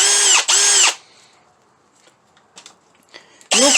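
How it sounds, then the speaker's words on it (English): A Milwaukee M18 Fuel combi drill whirs loudly and close up in two quick back-to-back bursts, then goes quiet apart from faint clicks and handling noise before spinning up again at the end. "It's a combi drill. It does drilling"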